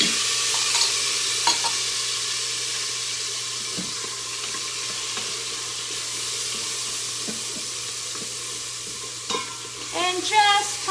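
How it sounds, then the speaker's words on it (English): A tablespoon of garlic tossed into hot oil in an Instant Pot gives a steady, even sizzle with faint stirring and a few clinks and scrapes of a utensil near the end. "And just toss that in that hot oil just for 30 seconds maybe."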